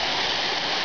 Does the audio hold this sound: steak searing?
no